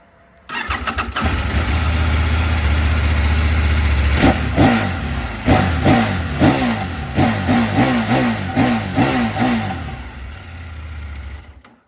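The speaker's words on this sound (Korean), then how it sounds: "엔진 시동 한번 들려드리도록 하겠습니다" A CF Moto 800MT motorcycle engine starts with a brief crank, then settles into a loud, steady idle, followed by a series of sharp throttle blips and a return to idle.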